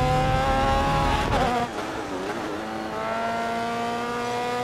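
A race car engine screams at full throttle in GRID Autosport, a loud, steady high-pitched whine with a brief gear-shift dip midway before climbing again.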